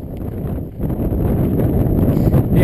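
A strong gust of wind buffets the microphone on an outdoor walk near Villefranche-de-Conflent, a loud, continuous low rumble that swells after the first second and holds steady to the end.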